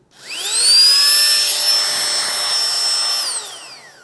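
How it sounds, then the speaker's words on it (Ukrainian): A small electric air pump from an AliExpress order whirs up, holds a steady high-pitched motor whine for a few seconds, then winds down, loud and close. "Це в нас є насос. Ви можете оцінити, наскільки сильно він зараз шумить."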